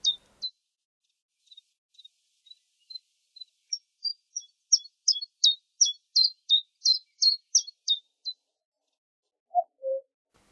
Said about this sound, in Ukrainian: Це співає вівчарик ковалик.